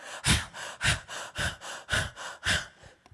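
A voice imitates a deer panting with thirst, giving a run of about nine rhythmic, breathy pants in steady succession, close and moderately loud.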